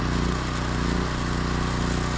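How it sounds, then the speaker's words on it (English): A DeWalt angle grinder runs steadily nearby, a dense, unbroken motor roar with a low hum underneath, lasting the whole moment without speech. "I got another grinder to replace the best grinder money can buy. This one's a DeWalt."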